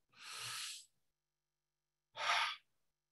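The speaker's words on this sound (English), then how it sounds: "Deep breath." Two deep breaths during a guided relaxation: a long, airy inhale of about half a second, a pause of silence, then a shorter, forceful exhale, both close and clear with no talking.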